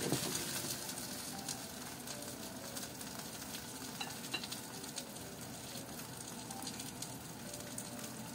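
Pork coated in miso jam frying in a pan over lowered heat, a soft, even sizzle with scattered faint crackles, quiet and unbroken, no speech.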